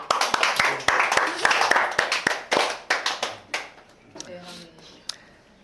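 A church congregation claps together during Sunday worship announcements, a burst of close, sharp hand claps that thins out and fades over a few seconds.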